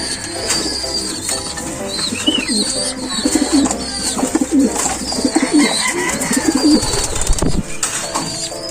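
Pigeons, including an ice pigeon, coo in a loft, with repeated close, rhythmic throaty calls overlapping throughout, joined by a brief flutter of wings near the end.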